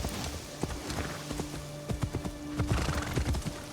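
A white horse in the video game Assassin's Creed Shadows gives a neigh amid rhythmic clip-clop hoofbeats, close and moderately loud, with no talking.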